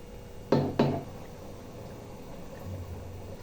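A lid goes onto a cooking pot of rice simmering in hot water for ilish polau, making two quick, close clanks a fraction of a second apart, followed by a low, quiet simmer.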